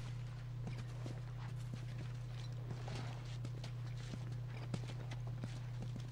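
Horse hooves clop in a steady, soft walking rhythm in The Last of Us, faint and fairly distant over a constant low hum, with no voices.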